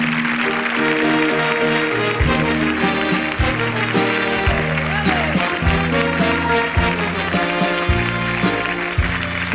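Studio audience applause for a singer on a Spanish Saturday-night TV show, steady clapping carried under a loud band playing a brassy, rhythmic tune throughout.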